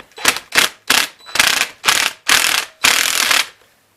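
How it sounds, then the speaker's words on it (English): A ratchet wrench turns a 5/8 socket on a 1968 Case 430 tractor motor, giving seven quick bursts of clicking, close and loud, with short pauses between strokes and no talk. "Let me get the right size socket."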